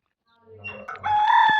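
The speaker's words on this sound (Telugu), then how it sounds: "మాకు కోళ్ళు ఉన్నాయి, మా అమ్మమ్మ పెంచుతుంది." Chicken in a home vegetable garden gives a single rising, crowing call, close and moderately loud, building over about a second after a soft lead-in, with no talking.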